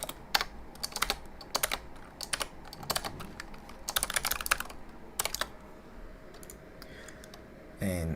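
Bursts of fast clicky typing on a computer keyboard during a game-development livestream, close and moderately quiet, in short irregular clusters separated by pauses.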